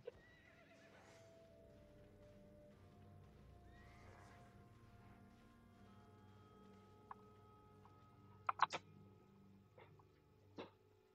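Horse neighs and hoofbeats from the online game Albion Online, set against a steady in-game ambient bed, with a cluster of sharp sounds near the end.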